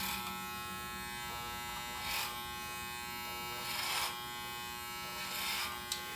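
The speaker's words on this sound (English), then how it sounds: "Clipper glides across the comb, removing the hair that extends out of the teeth of the comb." Electric hair clipper cutting hair over a comb, a steady faint buzzing hum with soft swells of crisp cutting noise as it glides across the comb teeth several times.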